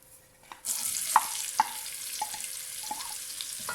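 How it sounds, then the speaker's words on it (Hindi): Onions frying in hot oil for an egg korma with potatoes, a steady close sizzle and hiss that starts abruptly and runs on, broken by a few sharp taps of stirring. "अब हम इसी ऑयल में प्याज को फ्राई करेंगे।"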